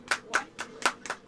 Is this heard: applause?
yes